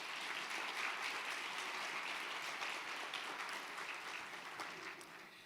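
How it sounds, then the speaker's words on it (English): Sustained applause from an audience at a small business summit in Houston, a dense wash of clapping heard at a moderate distance, gradually tapering off near the end. "so we can give you a big round of applause"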